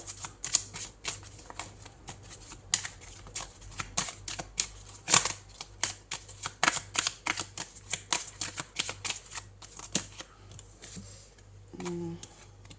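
Tarot cards being shuffled during a reading give a rapid run of crisp, close flicks and riffles, broken by brief pauses, with a little talk near the end.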